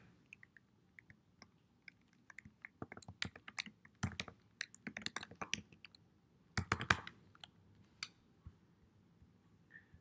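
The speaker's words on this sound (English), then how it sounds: "I can begin to type." Fingers typing on a computer keyboard, irregular clusters of sharp key clicks with pauses between bursts, quiet and close.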